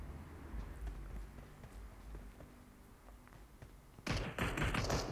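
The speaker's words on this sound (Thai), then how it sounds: "ผมได้ยินเสียงเท้าอยู่ด้านล่าง" Quiet, rhythmic footstep thuds sound from below in PUBG Mobile, then a sudden loud burst of crackling, gunfire-like noise breaks in near the end.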